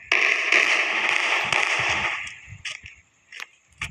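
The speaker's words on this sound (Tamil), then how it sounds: "இப்போதைக்கு இந்த காரை வெடிக்கலாம்." A car blows up in the Indian Bike Driving video game, a loud crackling explosive burst lasting about two seconds that fades into scattered pops and sharp bangs.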